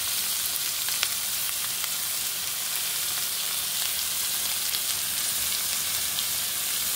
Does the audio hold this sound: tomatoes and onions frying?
yes